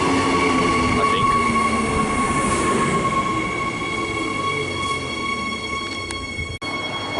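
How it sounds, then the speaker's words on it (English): A Queensland Rail SMU and IMU electric train departs a Brisbane platform, its steady rumble carrying throughout with high tonal whine from the motors and faint wheel squeal, closing with a brief sharp click. "We've got this train departing. It's an SMU and an IMU."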